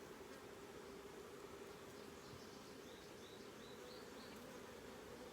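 A honey bee colony buzzes steadily at close range, a continuous low drone with scattered individual wingbeats, faint and without any voices.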